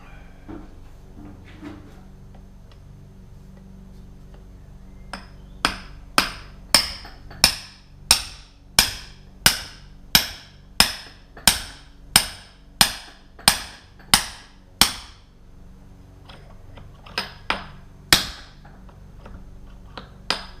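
Steady series of sharp metallic hammer blows driving a part home with a homemade driver during a Jaguar 3.8 engine rebuild, about fourteen evenly spaced strikes followed by a pause and a few more, close and loud in a quiet workshop.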